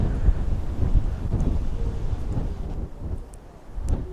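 Strong wind buffeting the microphone at Peggy's Cove on the coast near Halifax, a loud low rumbling roar that gusts and eases over several seconds, with no talk.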